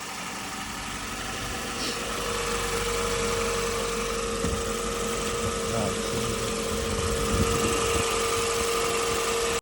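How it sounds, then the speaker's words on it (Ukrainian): Toyota Avensis engine idles with a steady, even hum and a constant mid-pitched drone throughout, fairly close, with occasional faint knocks or clunks on top and no talking. "Тачка потім вроді завелась, працює ніби рівно"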